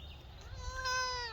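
A pet cat gives one drawn-out meow up close, rising and then holding steady, heard alone against quiet room tone.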